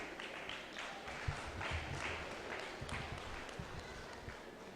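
Round of applause from a graduation audience at a college ceremony, steady mass clapping heard faintly from a distance, with a few sharper claps standing out and no talk over it.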